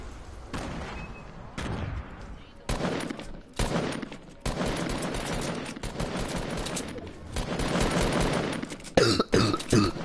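Bursts of rapid automatic gunfire and fusillades in a first-person shooter video game, loud and repeated in several clusters with brief gaps between, ending in sharp single shots.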